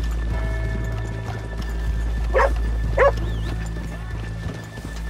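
Horses in Red Dead Redemption stand and shuffle along a track with soft hoof clopping over a low steady rumble, broken by two short, sharp animal calls close by.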